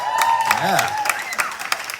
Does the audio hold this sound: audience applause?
yes